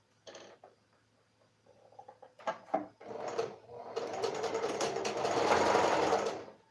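Sewing machine stitching tote bag fabric: a few short bursts of needle clatter, then a steady, fairly close mechanical whirr of continuous running for the last few seconds.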